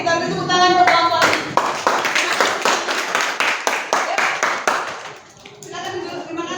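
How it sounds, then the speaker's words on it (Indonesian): Classroom audience of students clapping hands for classmates after a group presentation, a brisk burst of many claps that swells, holds for a few seconds and fades out, with voices talking before and after. "kita beri tepuk tangan buat kawan-kawan"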